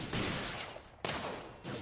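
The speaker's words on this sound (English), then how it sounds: "that plasma cannon doing a good job plasmaing stuff" Plasma cannon towers fire in the tower defense game Axon TD: Uprising, a few loud, sustained bursts of crackling energy blasts in quick succession, with no voices.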